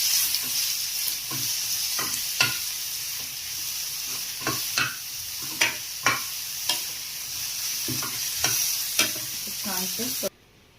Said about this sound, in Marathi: असं परतून घ्यायचं आहे